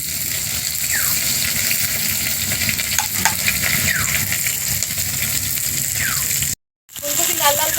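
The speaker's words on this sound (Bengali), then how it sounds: "ফুলকপি লাল লাল করে ভাজা হয়ে গেছে।" Cauliflower frying in a pan in a home kitchen, a steady loud sizzle with stirring and scraping throughout, a brief dropout near the end, then the sizzle resumes.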